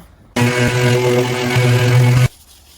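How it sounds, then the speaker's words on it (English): A powered sander on timber for a bathroom medicine cabinet starts abruptly, runs loud and close at a steady hum for about two seconds, then cuts off. "Get this sanded up, get some wax oil on there"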